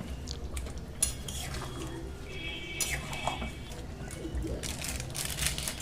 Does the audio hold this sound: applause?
no